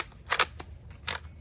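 An Umarex Legends Cowboy lever-action air rifle fires pellets, giving sharp close mechanical snaps and clacks: a quick double crack, a lighter click, then another crisp shot with a short rattle, all quiet and without talk.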